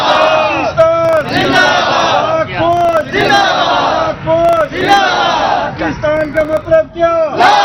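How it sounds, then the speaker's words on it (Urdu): Citizens at a street rally in Pakistan chant slogans in support of the army, a loud crowd shouting in repeated rhythmic bursts with brief pauses between chants, close and forceful. "شہریوں نے پاک فوج کے حق میں خوب نعرے لگائے"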